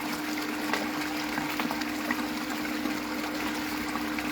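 Water washes down a gold sluice, bubbling and gurgling in a steady, close, continuous flow with a low hum underneath and no talking.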